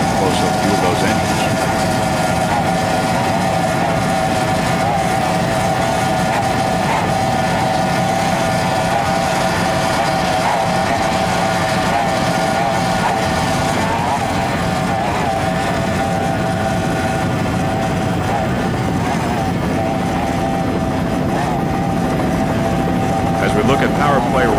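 Racing powerboat with Apache 2.5 EFI engines at a 1993 Miami Beach grand prix, a steady loud engine drone with a strong tonal hum running throughout, broadband rumble and roar underneath.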